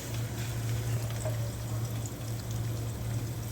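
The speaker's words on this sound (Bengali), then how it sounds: "এবার এটাকে ভেজে নেওয়া হচ্ছে" Onions with cinnamon, bay leaf, cloves and cardamom fry in a pan with a steady, even hiss over a low, constant hum, without pauses or voices.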